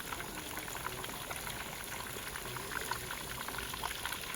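A whole rohu fish, about 5 kg, frying in oil: a dense, even bubbling sizzle holding steady throughout at moderate level, with no clear spatula hits and no speech.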